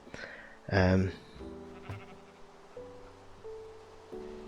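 A Minecraft sheep gives one loud, wavering bleat near the start, followed by quieter game tones and soft in-game noises.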